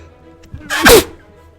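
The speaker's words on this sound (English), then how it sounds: "There's the sneeze." One person lets out a single sudden sneeze, loud and close, with a sharp burst that trails off quickly against near silence.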